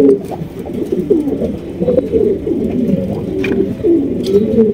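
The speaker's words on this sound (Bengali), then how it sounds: "এটা হচ্ছে মডার্ন ব্ল্যাকলেস বন্টিনেট কবুতর" Modern Blackless Bontinet pigeons coo close by, a run of soft rolling low calls repeating one after another, fairly loud and without voices.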